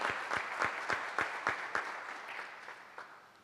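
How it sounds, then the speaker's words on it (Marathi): A church congregation claps in praise during a Sunday service, sharp rhythmic hand claps landing in a regular beat that gradually fade and thin out toward the end. "टाळ्या वाजून आपण परमेश्वराला धन्यवाद देऊया."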